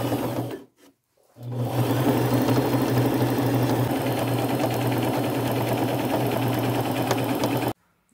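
A sewing machine stitching a patch onto overalls in white thread runs steadily for about six seconds after a brief start and pause, with a loud, even motor hum and no talking.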